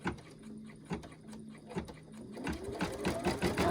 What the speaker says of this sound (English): so we're going to stitch that